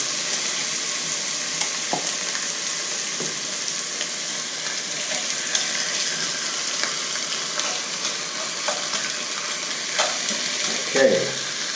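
Food sears in a hot cast iron pan, producing a loud, even, continuous sizzle with faint scrapes and a brief clatter near the end.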